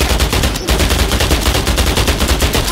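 A CVA combat rifle firing on full auto: a dense, unbroken stream of loud, close shots that runs nearly the whole time, with only a very brief gap early on.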